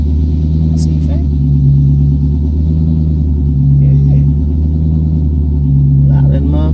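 A car's engine rumbles loud and close in a steady low drone with mild surges, while people talk over it.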